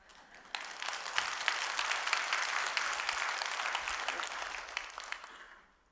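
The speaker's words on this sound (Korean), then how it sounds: "박수 치려면 쳐요." Church congregation applauding during a Wednesday evening prayer meeting, a sustained wash of many hands clapping that swells quickly, holds steady and then fades out at the end.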